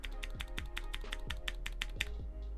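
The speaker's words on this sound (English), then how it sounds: "This keyboard is terribly quiet because if I'm hitting the spacebar" Spacebar on a Zoom 65 mechanical keyboard pressed repeatedly in a steady rhythm, each stroke a soft, muted thock over a constant low background hum, close and quiet.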